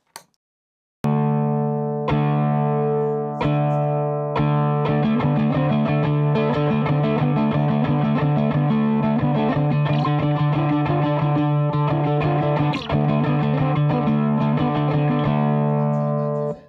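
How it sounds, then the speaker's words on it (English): An amplified ukulele with overdrive strums a few sustained chords, then picks a bright, slightly distorted melody, loud and close. "it's just a little bit of overdrive"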